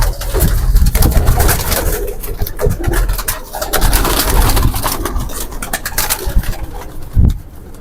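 Sialkot pigeons coo softly amid a noisy, bustling background with scattered rustling and low rumble, no one speaking.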